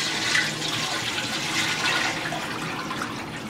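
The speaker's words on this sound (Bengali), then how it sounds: "সেই ঘিয়ের উপরে আমি পানি দিয়ে দিচ্ছি" About 1.5 litres of water poured onto ghee in a wok for chui pitha makes a continuous, fairly loud rushing gush that stays steady throughout, with no talking.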